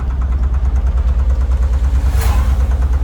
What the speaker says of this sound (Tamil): வண்டியை ஸ்டார்ட் பண்ணுவோம்